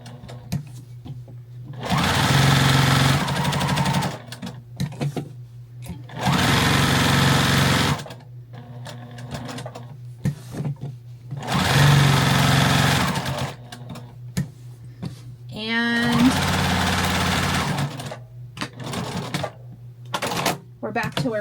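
A sewing machine runs in several loud bursts of a few seconds each, with pauses between them, as it stitches over a small fabric flag. A voice speaks during the gaps.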